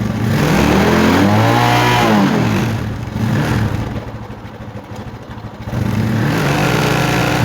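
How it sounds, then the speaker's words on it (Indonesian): A Honda Tiger Megapro motorcycle engine revved at full throttle close up, a loud sustained roar that rises and falls, dips briefly in the middle, then climbs back to a high steady rev. "Coba kita fullkan gasnya."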